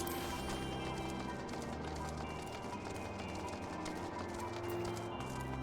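Horse hooves clip-clop at a steady trot in Final Fantasy XIV, a continuous rhythmic patter sitting under game music and ambient sound throughout.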